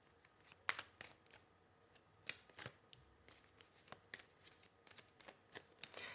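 Oracle cards being shuffled by hand, heard as close, papery riffles and slaps in irregular bursts, with soft handling noise between them and no talking.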